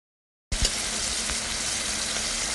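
Seasoned lobster hits hot oil in a pan and bursts into loud, continuous sizzling and crackling frying, starting abruptly after a brief silence.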